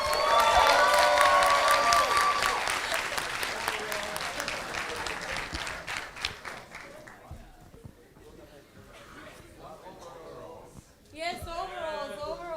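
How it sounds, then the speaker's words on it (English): An audience at a council general assembly applauds, a dense burst of clapping that fades over several seconds, with voices speaking as it dies away. "Can we have an applause?"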